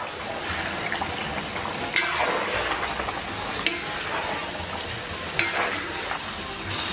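Ingredients stir-fried over low heat in a pan with a block of hotpot soup base, a continuous dense sizzle with occasional scraping stirs and clinks.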